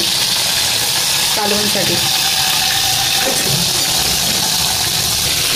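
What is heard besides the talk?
fish frying in a pan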